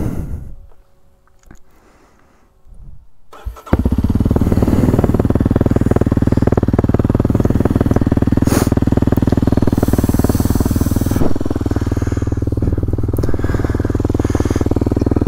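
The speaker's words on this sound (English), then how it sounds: "gonna get this thing started up, hopefully get some road exhaust noises with my Norifumi exhaust" A 2023 Kawasaki KLX 230SM motorcycle with a Norifumi exhaust is started after a few quiet seconds of handling. The engine catches abruptly and then settles into a loud, steady, throbbing idle close by, with a brief blip partway through.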